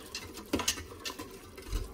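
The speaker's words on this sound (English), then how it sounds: "and I'm just giving it a good whisk." Whisk scraping and clicking through gravy thickened with cornstarch in an Instant Pot, made while cooking duck, with a few quick irregular taps and scrapes close by and no talking.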